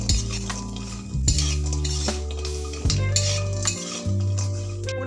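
Bori lentil dumplings fry in oil in a wok as a metal spatula repeatedly scrapes and clinks against the pan. The stirring is close and rhythmic over a steady tonal background, with no talking.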